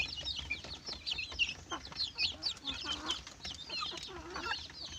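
Native chickens and crossbred chickens clucking steadily in a close group, soft overlapping calls repeating throughout with a low background hum.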